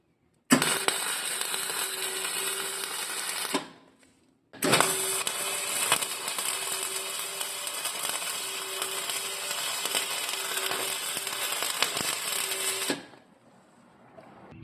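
Flux core welding on a DIY micro electric bicycle: a steady, crackling buzz of the welding arc runs loud for about three seconds, stops briefly, then resumes for roughly eight more seconds before cutting off.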